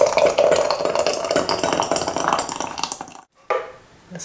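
Homemade tomato pasta sauce pours out of a Vitamix blender jar into canning jars in a home kitchen, a steady close liquid gush that stops briefly near the end, then resumes more faintly.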